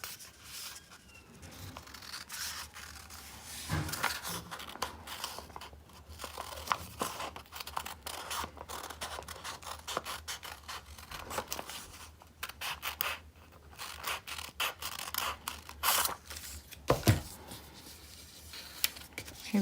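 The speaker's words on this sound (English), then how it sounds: "you carefully cut along this dashed one and along this dashed one" Scissors snip through paper along dashed lines while making a pop-up trophy card, a string of close crisp cuts and rustles with occasional louder clicks.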